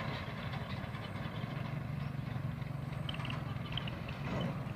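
A tractor hauling a trolley rolls past a village pomegranate and falsa orchard, giving a faint, steady low engine rumble with a continuous mechanical drone.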